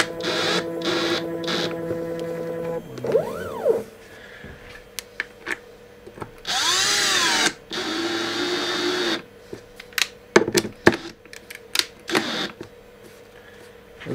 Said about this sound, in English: that's just going to give me room to get the drill in and to screw the piece down.